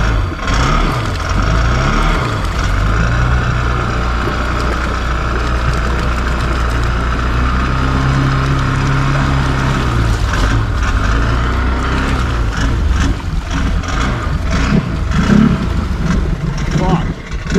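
Can-Am and Honda off-road vehicles with slipping clutches, engines droning and revving loudly and continuously up close, with people talking over them.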